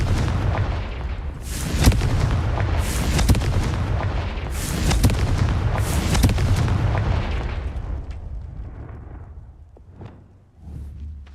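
Repeated fiery blasts from the Confringo explosive spell in the wizarding game Hogwarts Legacy, a series of loud booming bursts that rumble on, then fade into quieter pops and a final low thud.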